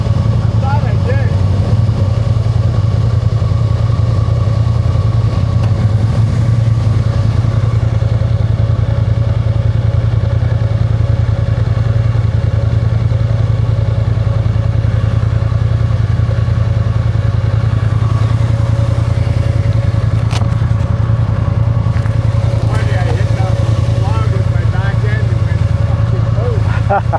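A Polaris off-road vehicle engine runs continuously with a steady low drone and rattling clatter, loud and close, while people talk over it.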